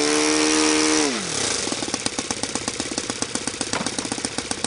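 Saito FA-82a four-stroke glow model engine holding a steady high drone, then the throttle drops and it settles into a rhythmic, popping idle with evenly spaced firing pulses, loud and close.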